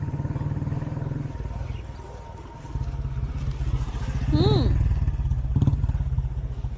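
A motorcycle engine idles and revs steadily in a scene from a South Indian film, its low throb running under dialogue, with a swell and brief higher whine partway through.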